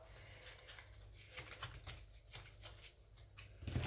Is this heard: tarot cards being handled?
yes